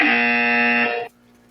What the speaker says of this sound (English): where's my buzzer? I got to get my buzzer for that one.